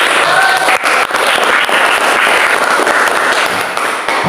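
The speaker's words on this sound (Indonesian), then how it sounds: "Oke, kasih tepuk tangan." Applause in a classroom during a lesson on voltaic cells, steady dense clapping from many students filling the whole stretch, loud and close, with no break.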